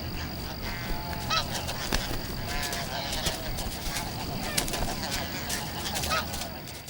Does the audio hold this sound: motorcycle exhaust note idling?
no